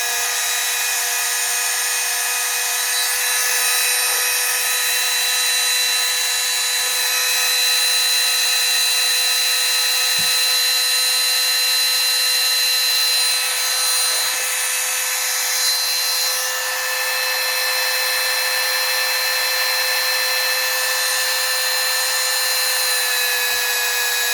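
A TECCPO TART13P cordless rotary tool runs at its maximum 28,000 RPM with a steady, piercing high-pitched whine that stays constant and loud throughout, alone without talk.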